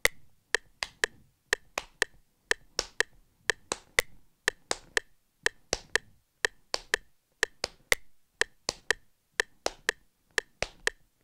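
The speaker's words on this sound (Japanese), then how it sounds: "8分音符が鳴った後に手拍子をする" Crisp hand claps land on the offbeat eighth notes against a steady metronome click, repeating evenly for about eleven seconds in a quiet room with no talking.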